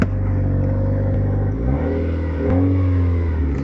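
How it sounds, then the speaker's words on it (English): A 2015 Nissan Juke 1.6 Nismo RS DIG-T engine idles close by with a deep, loud burbling exhaust note, its pitch shifting slightly as the revs rise and settle. "you can hear that exhaust already giving you a nice loud barble"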